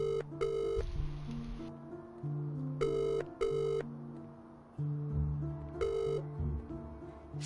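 A telephone rings in repeated double bursts over a low musical background, clear and moderately loud, with the ringing pausing between pairs.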